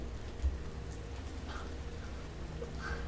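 Rain falls at night in a steady, dense patter of drops on surfaces, continuous and moderately loud with no talking.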